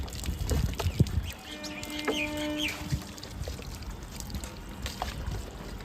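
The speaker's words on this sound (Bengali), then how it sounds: "ভালো করে জল দে, ভিতরে আর দুটো জল দে হয়ে যাবে" Water poured outdoors, a splashing, gurgling stream that rises and falls over several seconds, with chickens clucking and other background noise nearby.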